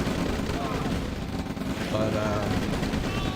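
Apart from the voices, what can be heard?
rockets and gunfire hitting infantry in a strategy video game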